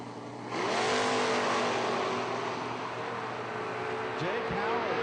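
A Chevy Camaro drag car launches hard at a footbrake bracket race, a loud, sustained engine roar that rises and holds for several seconds, with an announcer talking over it.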